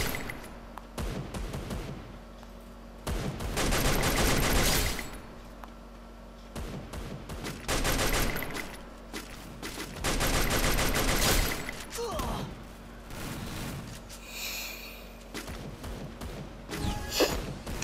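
An M249 machine gun in the video game Free Fire fires several long, loud bursts separated by short pauses, with a sharp whooshing effect near the end.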